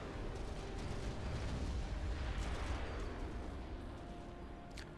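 Cybran split missiles striking targets in the Supreme Commander: Forged Alliance strategy game, heard as a steady, dense wash of overlapping rumbling impacts and muffled booms, moderately loud throughout with no talking.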